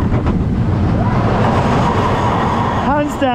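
A Vekoma boomerang roller coaster train at Wiener Prater runs along its track with a loud close rumble and rattle, then screams and whoops from riders rise near the end.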